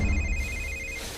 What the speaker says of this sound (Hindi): ये ले, थारे बाप ने फोन मिला दिया।